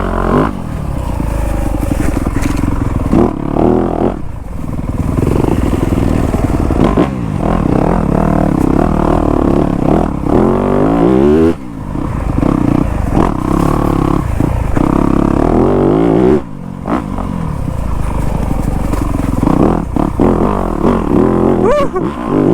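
A Yamaha YZ250F dirt bike engine roars and revs continuously on a rutted, root-strewn wooded trail, loud and close, with throttle surges, brief drops and clattering over bumps.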